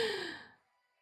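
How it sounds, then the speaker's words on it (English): One person gives a single long, breathy yawn that fades out within about half a second, close and quiet, with no talk. "Now the emoji's making me yawn."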